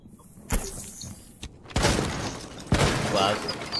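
Glass windows shatter in the video game Rainbow Six Siege, with several loud, crashing breaks spread over a few seconds amid noisy in-game action.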